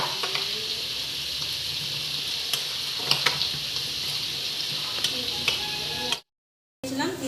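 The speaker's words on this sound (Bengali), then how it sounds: "এবার আমার এঁচোড়ের আলু ভালো করে ভাজা হয়ে গেছে।" Jackfruit and potatoes frying in a pan, a steady loud oil sizzle with occasional light clicks of a utensil, running continuously before a short cut to silence and then resuming.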